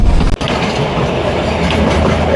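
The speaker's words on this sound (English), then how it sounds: "They were just dig wide enough so that the train can pass through" The Shargan 8 narrow-gauge railway train rolls through a rock tunnel on the line in Serbia, making a loud, continuous rumble with rattling carriages and clattering wheels that echo in the enclosed space, close by and without speech.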